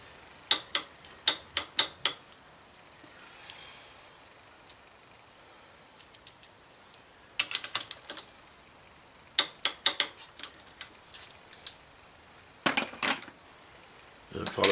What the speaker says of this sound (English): torquing up to 52 foot-pounds.